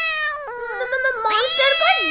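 A cartoon cat meows in a shrill, stretched, wavering cry after a monster is turned into a cat. It is loud and close, rising into a strained caterwaul near the end, with no background noise.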